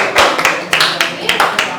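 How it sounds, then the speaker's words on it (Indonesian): A classroom of students gives a short round of applause, several loud broadband bursts of clapping repeating irregularly across the clip, close and fairly dense. "tepuk tangan dulu buat kita semua"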